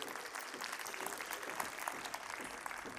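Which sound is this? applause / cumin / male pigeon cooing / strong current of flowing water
applause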